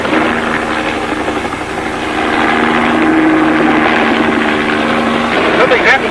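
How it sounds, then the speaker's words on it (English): A steady helicopter engine drone with a low humming tone runs throughout, loud and close, with some rumbling fluctuation toward the end. "The helicopter's out of control."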